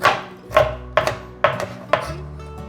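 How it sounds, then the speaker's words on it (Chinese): A knife slices ginger into thin strips on a cutting board, giving five crisp, evenly spaced chops up close with a faint hum underneath. "把姜切丝"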